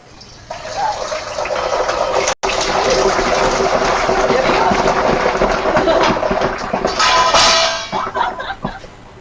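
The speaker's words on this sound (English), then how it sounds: "we'll know it's done when the bubbling and the hissing and all that sound dies down" Loud, steady sizzling and hissing of olives frying in hot oil, a dense crackle that holds for several seconds before easing at the end.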